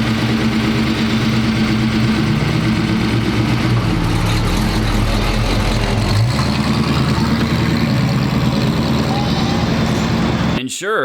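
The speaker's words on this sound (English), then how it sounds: "So yeah, this car sounds pretty damn good." A 1971 AMC Javelin with a 401 V8 idles loudly and steadily up close, a deep lumpy rumble that holds for about ten seconds before cutting off abruptly at the end.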